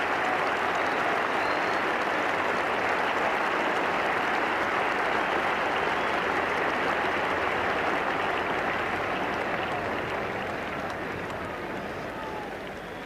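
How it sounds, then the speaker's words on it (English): A cricket crowd at Lord's during the 1985 Ashes applauds Ian Botham, a loud, sustained wash of clapping that rolls on evenly and eases off slightly near the end. "the applause ringing round now is for Botham"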